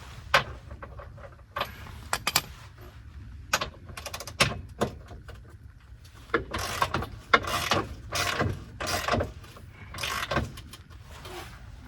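A 7/8 wrench ratchets on a loosened bolt under a Mercedes-Benz, giving bursts of close, sharp metallic clicks in irregular runs with short pauses between them.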